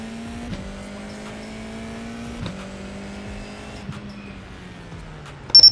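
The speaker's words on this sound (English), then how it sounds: "the second method they use is to rev the engine first and then put the first gear, but same problem, you have a wheel spin" A racing-simulator car launches in first gear after revving, the engine note holding high while the wheels spin, with brief gear or impact clicks and a sharp squeal at the end.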